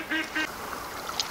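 Ducks quacking and geese honking in the hunting game Way of the Hunter, a few short nasal calls in quick bursts at moderate distance over a steady outdoor ambience.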